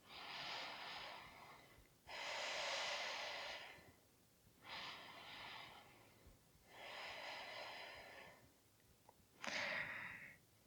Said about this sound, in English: start breathing through the nose. So inhaling and exhaling happening through the nose